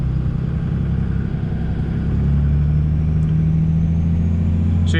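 A 20-year-old 24-valve Cummins dually pickup towing a trailer on the highway, heard as a loud, steady diesel drone and road rumble that holds unbroken throughout.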